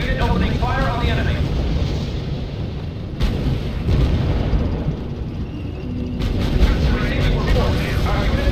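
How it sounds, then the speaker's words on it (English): Rumbling booms and sustained gunfire from units firing in the strategy video game R.U.S.E, loud and continuous with dense overlapping explosions, under a spoken voice. "Unit opening fire on the enemy"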